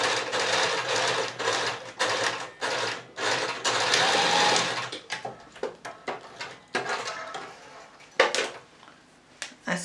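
A sewing machine stitches a box pleat skirt in short, close bursts of rapid mechanical chatter, a long run first and then several brief stop-start spurts with small clicks between.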